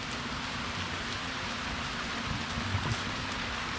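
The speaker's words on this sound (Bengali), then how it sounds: "আমরা যখন নৌকা নিয়ে বের হয়েছি ঠিক তখনই বৃষ্টি আসছে।" Steady rain falls outdoors on a boat trip at Panam City, Sonargaon, a continuous even patter with no voices.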